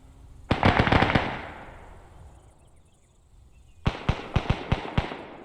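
Automatic gunfire in the video game ArmA 3 comes in two sharp bursts of rapid shots, the first loud with a long echoing tail, the second a quicker string of distinct cracks a few seconds later.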